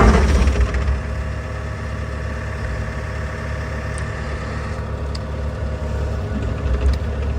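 A 2024 Bobcat E60 excavator engine running at full throttle, a loud, steady diesel drone heard from inside the cab, holding constant throughout with no speech.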